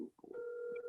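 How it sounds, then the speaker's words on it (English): Cell phone dialing to place a call: one short, faint, steady electronic tone, heard alone. "I called you from my cell phone."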